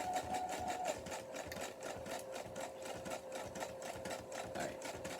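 A sewing machine runs steadily, stitching a quick zigzag down the side of a fabric soap pocket, its fast needle rhythm continuous and close throughout.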